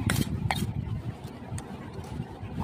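Chopped tomatoes spooned into a bowl of jhal muri with potatoes, a few light clinks and soft scrapes of a spoon against the bowl over a low, muffled background.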